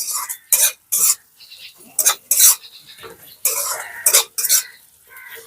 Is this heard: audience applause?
no